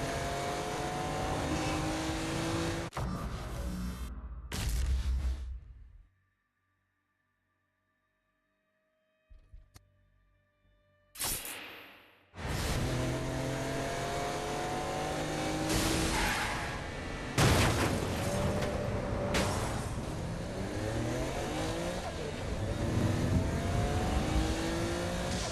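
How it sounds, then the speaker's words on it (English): Car engine driving and revving in the Saints Row Gat Out of Hell video game, loud and continuous with a break of near silence midway, then resuming with gunfire-like bursts over the engine. "Kinsey Kensington and Johnny Gat driving together on a birthday adventure"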